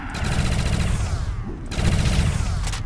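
Rapid gunfire in World at War custom Zombies at a beach-town resort map, dense automatic bursts filling the whole stretch with a brief pause in between, loud and close.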